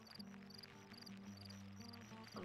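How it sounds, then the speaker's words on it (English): Loud cricket chirping at night in the farm game Barnyard, with steady repeated trills over a low sustained hum of background game music throughout. "A loud cricket."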